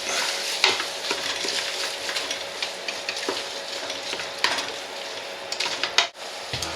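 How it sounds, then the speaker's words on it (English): Cabbage vegetable soup with chopped Roma tomatoes stirred in a pot, a steady close scraping and sloshing with a soft sizzle underneath and occasional sharper knocks of the utensil. "So stir this up."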